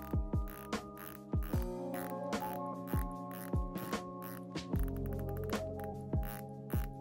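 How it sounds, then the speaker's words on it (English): A Rolex Submariner's 120-click bezel is turned by hand, giving a run of crisp, close ratcheting clicks in uneven bursts over a soft tonal background hum. "sub features that 120 click bezel as opposed to 60 click on the Tudor"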